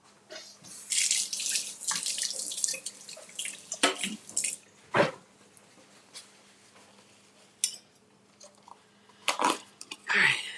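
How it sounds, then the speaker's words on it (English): Kitchen tap water runs in short irregular bursts as something is rinsed off during baking prep, splashing intermittently with pauses, fairly close and moderately loud. "Let me just rinse this off."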